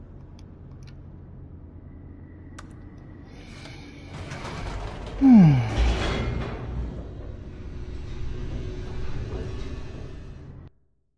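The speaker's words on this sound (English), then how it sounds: "The elevator raced downward, plummeting towards an unknown fate." An elevator in the video game The Stanley Parable descends with a low mechanical rumble and grinding, ratcheting creaks that swell midway with a sliding groan, then continue steadily before cutting off.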